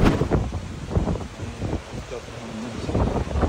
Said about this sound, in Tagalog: Ramdam din ang pabugso-bugsong hangin na dala ng bagyong Wilma sa ilang bahagi ng Western Visayas